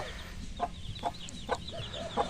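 Hens clucking among small chicks on a Philippine backyard farm, a steady run of short, evenly spaced clucks with faint peeping over low background noise.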